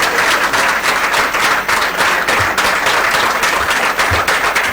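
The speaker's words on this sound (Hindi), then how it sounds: "एक बार जोरदार तालियों के साथ राठौर जी का स्वागत और अभिनंदन करिए" Audience applause welcoming a BJP state president at a party headquarters event in Jaipur, a dense, loud crowd of clapping sustained throughout, with a few scattered louder claps.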